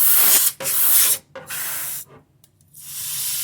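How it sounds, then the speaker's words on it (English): Compressed air sprays out of a can in short, loud hissing bursts, four or five blasts separated by brief pauses, as dust is cleared from inside a desktop computer case. "I just use the air spray to just clear out any dust."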